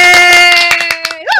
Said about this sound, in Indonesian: tepuk tangan lu dong